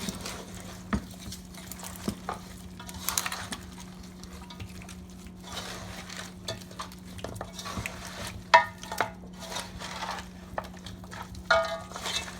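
Five kinds of meat being mixed by hand with seasoning in a pot for a poor man's stew, soft wet squelching and shuffling with occasional light knocks against the pot, close and fairly quiet.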